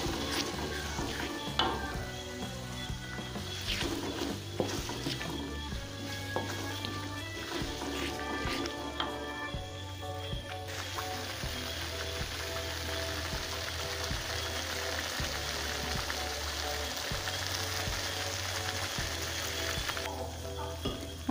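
Steady sizzling of leaves and beef frying in a pan for Indonesian rendang or dendeng, with scraping and clinking of a utensil stirring throughout, loud and close.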